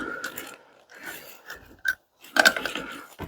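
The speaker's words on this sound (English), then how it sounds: "Had to go dig around for a wrench." Metal wrench clicks and scrapes as a 10mm wrench turns on a fitting of a NAPA Flate air compressor during a pressure switch upgrade, coming in short bursts of ratcheting and rubbing with brief pauses between them.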